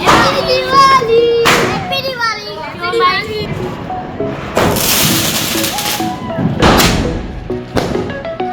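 Diwali firecracker bombs bursting outdoors in a loud, broadband blast of sharp explosions, with excited voices talking and shouting around them.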